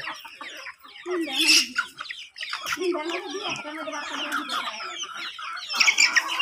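Several desi and Kadaknath chickens cluck close by in a mixed backyard flock, a busy run of overlapping calls and squawks with a louder burst near the start.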